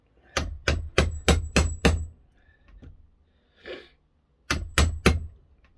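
Sharp metallic hammer blows on a refrigerator compressor, six quick strikes in a steady rhythm, a brief pause with faint clatter, then three more hard hits, close and loud.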